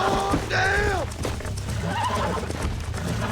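A horse in Red Dead Redemption 2 whinnies in a loud, shaky neigh over a steady background rumble, followed by a voice talking.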